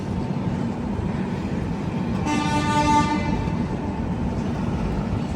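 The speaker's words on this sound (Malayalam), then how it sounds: "ലോക്കൽ ട്രെയിൻ പോകുന്നു" A local train passes near Panvel station, its rolling rumble steady throughout, with a loud tonal horn blast sounding for about a second midway.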